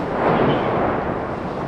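Sustained, dense rumbling roar of heavy artillery shelling in the centre of Bakhmut, Ukraine, filling the whole clip with little change in loudness.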